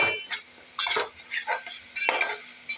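A spoon scrapes and clinks against a pan in short, uneven strokes as masala with a little turmeric is stirred and roasted for stuffed capsicum, with a soft sizzle underneath.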